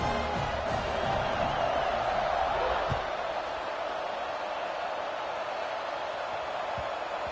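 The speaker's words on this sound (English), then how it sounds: "this crowd is feeling themselves after that last drive" Stadium crowd noise from the Madden football video game, a broad steady roar of cheering that swells slightly early and then holds at a constant level for the whole stretch, with no voices standing out.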